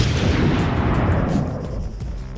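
Heavy sniper rifle fire in ARMA 3, a dense booming blast with long rumbling reverb that fills the whole moment and slowly decays, loud and close with no talking.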